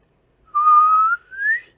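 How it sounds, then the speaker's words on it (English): A single whistled tone holds steady, breaks off, then returns sliding upward in pitch, like a short siren call, clear and alone. "that's how the siren whistle goes"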